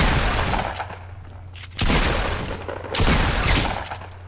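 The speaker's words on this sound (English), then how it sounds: "Someone else took a snipe shot at us." Gunfire and sniper shots in the video game Fortnite, two sharp loud bursts of shooting with echoing tails, separated by a quieter stretch of rumbling game noise.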